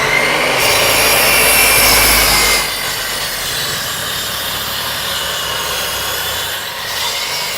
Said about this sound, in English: He does the cutting of the wood over here.